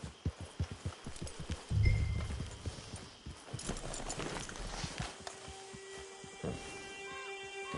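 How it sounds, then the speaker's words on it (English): Video game horse hooves clip-clop steadily in a quick rhythm, close and clear, with a louder thud partway through and a faint background hum, in Red Dead Online. "Get your horse."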